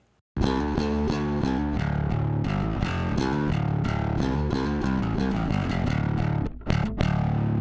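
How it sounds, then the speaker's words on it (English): Bass guitar driven through an Electro-Harmonix Battalion preamp with distortion applied after the EQ in post-EQ mode, playing a loud, steady riff of gritty sustained notes that continues without a break after a brief silent start. "In post EQ mode, it applies the distortion after the EQ section to the entire signal"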